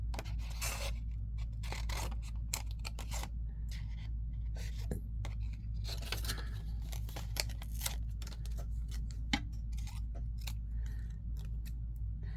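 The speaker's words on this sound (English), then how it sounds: "I'm cutting paper and fabric, so I need to have both." Repeated crisp snips and slicing strokes of fabric scissors cutting through paper and fabric scraps, close and quiet, in an irregular steady rhythm with a low background hum.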